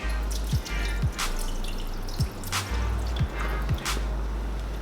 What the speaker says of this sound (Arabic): فاللي رح اعمله رح كب المي